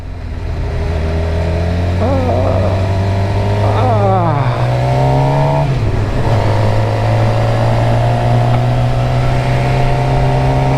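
A Suzuki GSX-R 750 sport motorcycle engine idles, then revs through rising and falling pitch sweeps as it pulls away, recorded up close and loud, its tone steady and droning near the end.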